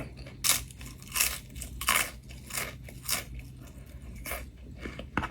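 A fresh leaf eaten with mackerel and shrimp paste chili dip is chewed close to the mic, producing a steady series of crisp, moist crunches spaced about every half second, with no talking.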